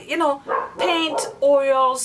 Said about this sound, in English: I'm sorry about the dog. She's upstairs.